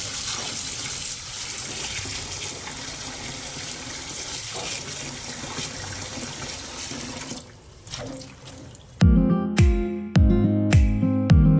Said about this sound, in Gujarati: ધોઈ કાઢીએ આદુ મરચાં પહેલાં